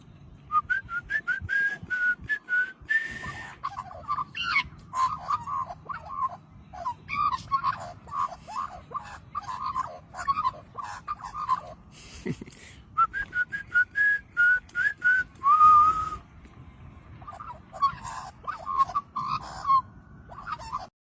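A person whistles repeated short melodic phrases to a mimicking bird, clear and close, with pauses between bursts and a few answering whistle-like calls.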